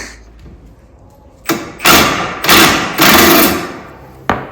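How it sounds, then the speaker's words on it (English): A stuck sway bar bolt being worked loose on a MK4 Jetta gives off a run of harsh metallic bangs and scraping bursts, loud and close, in irregular strong pulses. "what you can hear him struggling with right now is the sway bar bolt"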